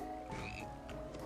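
A frog man croaks in the BattleBlock Theater video game, a dense, throaty croaking that runs steadily through the whole moment over game background sounds.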